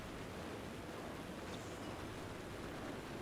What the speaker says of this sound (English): the rain's not helping, but it's adding at least a pleasant ambiance